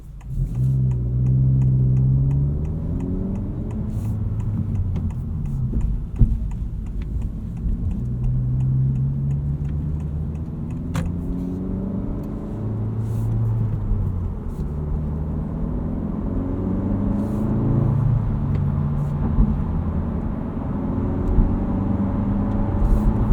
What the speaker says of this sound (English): So the higher you get in the rev band, the more it pulls.